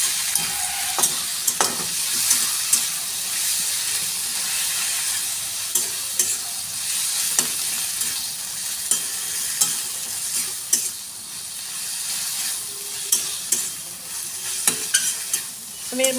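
Grated coconut stirred and fried with taro leaves in a pan, a continuous soft sizzle punctuated by regular scraping and clinking strokes of a spoon, close and steady.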